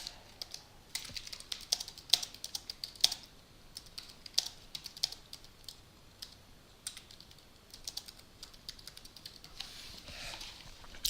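Rapid, irregular keystrokes on a computer keyboard entering a short description, clicking in bursts with brief pauses, close and fairly quiet, no talking.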